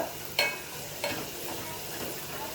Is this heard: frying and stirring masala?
yes